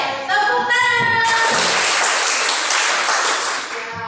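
A classroom of students claps together, a dense burst of applause rising after a brief voice at the start and holding steady before tapering off near the end.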